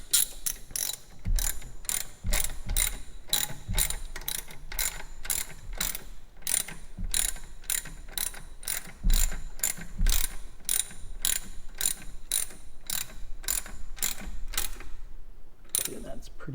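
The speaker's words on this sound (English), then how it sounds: "Okay, and then we'll do the 2 bottom bolts." Rapid, steady ratchet clicks from a wrench tightening the two lower alternator bolts on a 1999–2004 Ford Mustang GT, a long run of close, even metallic ticks with short pauses between strokes and no talking.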